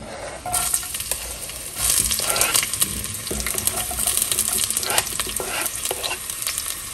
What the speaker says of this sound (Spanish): Voy a agregar el ajo y la cebolla en una cacerola.